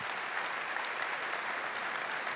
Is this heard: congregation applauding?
yes